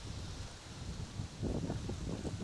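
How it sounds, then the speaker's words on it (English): Wind gusts across a beach in the Bahamas during an outdoor volleyball game, a steady loud roar of buffeting against the microphone that grows stronger partway through, with no voices. "It is so windy."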